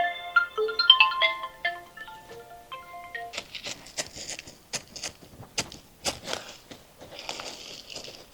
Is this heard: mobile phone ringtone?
yes